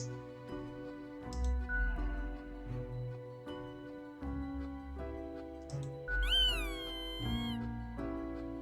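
A cat in the video game Death & Taxes meows repeatedly while being petted, several distinct mews over a soft game music bed, the last one a long rising-falling cry.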